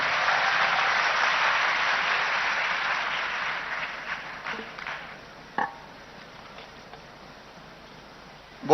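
A crowd at a public memorial event in Bhopal breaks into loud, dense applause welcoming the chief minister, then the clapping thins out into a few scattered claps before fading.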